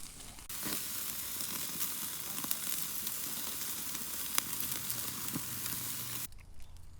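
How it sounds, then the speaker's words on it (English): Chicken sears on a Weber kettle grill, giving a steady close sizzle and crackle with scattered pops that runs without pause and cuts off abruptly near the end. "So I'm going to sear both sides of these"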